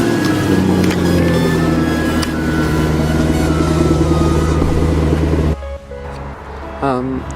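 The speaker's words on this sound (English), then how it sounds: "we need to do a cold start of the AMG" A Mercedes-AMG car engine cold-starts with a loud, steady, deep running rumble, then cuts off abruptly partway through, leaving quieter ambience with a brief voice near the end.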